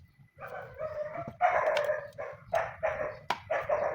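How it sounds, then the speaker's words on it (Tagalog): A pet dog at a home kitchen barks in a quick series of sharp, moderately loud yaps, several closely spaced bursts with brief gaps, heard fairly near with no talking. "Maingay yung aso. Yung aso ko."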